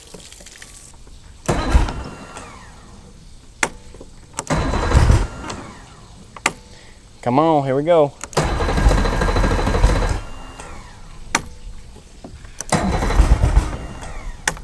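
An old outboard boat motor hooked up to flushing muffs is pulled over repeatedly, sputtering and catching in short loud bursts between pauses, with a brief rising whine and someone speaking briefly.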